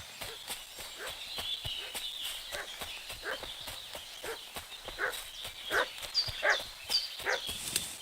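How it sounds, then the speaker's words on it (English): A dog in the medieval video game Kingdom Come: Deliverance 2 barks repeatedly in sharp bursts, growing more frequent toward the end, alongside hoof clip-clops and footsteps, with no speech. "What's that dog making such a fuss about?"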